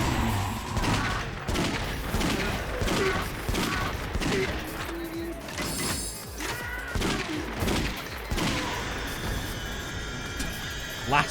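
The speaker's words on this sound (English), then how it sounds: "Any that we don't clear through quickly will be cleared out with shotgun." Shotgun blasts fired at zombies in the video game Yakuza Dead Souls, dense and loud, with repeated booming shots layered over a continuous wash of game sound effects.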